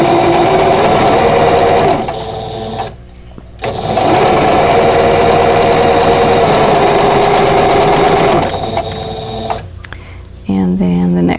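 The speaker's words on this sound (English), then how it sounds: "So I'm just going to sew right through that." A sewing machine stitches seams on a vintage quilt block, running loud and close in long steady bursts of rapid needle chatter, stopping briefly twice before starting up again.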